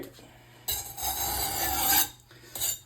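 A knife blade scrapes across a drying sharpening stone in close, raspy strokes, a long gritty pass followed by a shorter one, loud and harsh with brief pauses between.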